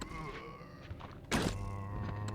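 A single heavy bow gun shot in Resident Evil 2, one sharp thumping burst over a steady droning game backdrop with faint sounds around it.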